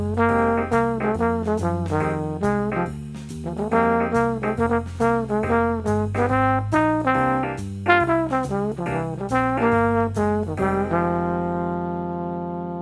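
A melody built on the minor pentatonic scale is played as a quick, continuous run of distinct notes, ending on a sustained, fading tone.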